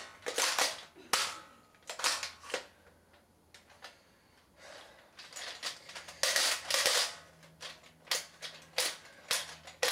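A Nerf Zombie Strike blaster fires darts at a target, sharp plastic snaps and clacks arriving in irregular bursts with short pauses between shots, close and crisp with no talking.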